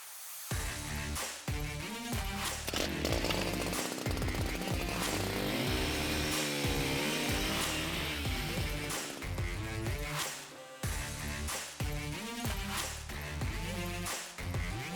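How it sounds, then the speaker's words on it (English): A loud gas-powered ice auger drills holes in a grid through the ice while walleye fishing on Winnipeg, its engine revving and bogging, with a brief pause before it starts drilling again. "we've been just kind of drilling holes in a grid"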